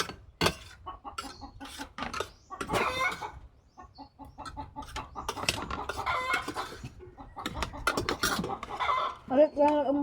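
A flock of chickens clucks close by in a busy, overlapping stream of sharp calls, with louder bursts and a brief crow-like cry among them.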